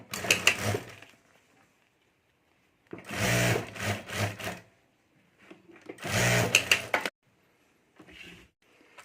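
A sewing machine stitches lining over the zip of a handmade clutch bag in three short bursts of rapid mechanical rattling, separated by quiet pauses, fairly close.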